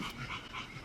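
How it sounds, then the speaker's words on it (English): A dog breathes with quick, rhythmic panting close by indoors, a soft steady huffing across a brief moment with no talking. "If you hear panting in the background, that is Twinkie."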